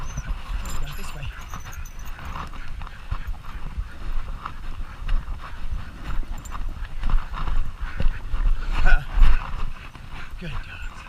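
Dogs panting and padding along close by, with rhythmic footfalls and occasional whimpers, while a person talks intermittently over them outdoors.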